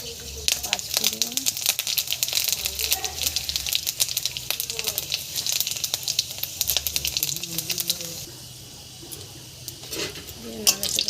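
Dry red chillies and panch phoron spices crackle and sizzle in hot oil in a kadai while being stirred, with steady spitting hiss, scraping clinks of a spatula against the pan, and voices talking over it.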